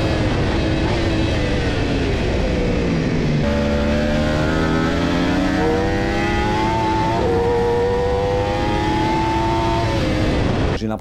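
A racing motorcycle engine screams at high revs during an overtaking push on track, roaring loud and close without a break. Its pitch climbs through the gears and drops at each shift.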